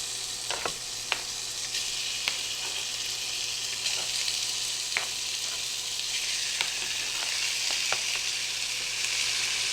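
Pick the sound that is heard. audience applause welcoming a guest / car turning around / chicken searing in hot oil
chicken searing in hot oil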